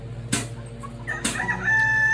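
Backyard chickens in a mixed flock at dusk give close clucks and sharp calls, with two loud bursts from a rooster and a sustained high crow rising toward the end.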